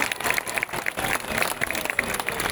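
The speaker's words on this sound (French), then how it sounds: "applaudissements" An audience applauds at a Diwali celebration in Le Moule after young girls perform a Bollywood dance, giving a dense, continuous patter of many hands with no voices on top.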